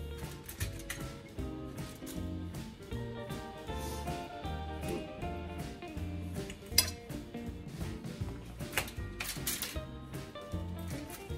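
Oven-roasted pork back ribs with barbecue sauce are cut up, with a steady run of clinks and taps of knife and cutlery against a plate continuing for several seconds.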